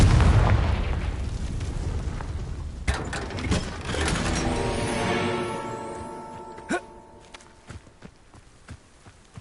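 A Confringo fire spell from Hogwarts Legacy goes off as a loud, heavy blast with a booming low rumble that settles into a crackling, ringing tail, followed by scattered clanks and small sharp hits.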